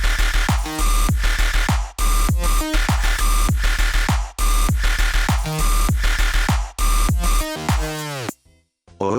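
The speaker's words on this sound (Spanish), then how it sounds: "Este sonido es una onda de sierra con 16 voces." A 16-voice saw-wave synth in a midtempo electronic track plays a rhythmic pattern of punchy, bright stabs with pitch sweeps and heavy low end, ending in a glitchy falling tail, with no voices.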